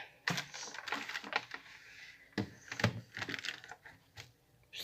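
A computer keyboard being cleaned, giving bursts of clicky tapping and rattling keys in irregular clusters with short pauses, fairly close and moderately loud, no voices.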